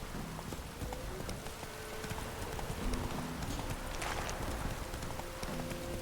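Roach the horse gallops in Witcher 3 with quick, rhythmic hoofbeats, fairly faint and mixed with light rain-like background noise.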